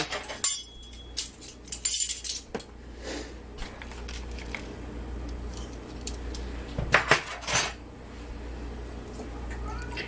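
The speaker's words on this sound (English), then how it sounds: "I'm going to put a teaspoon in each jar." A teaspoon of Montreal steak spice is spooned into each glass canning jar for pressure-canned beef, giving scattered bright clinks of metal on glass, a few clustered bursts, then quieter background clatter.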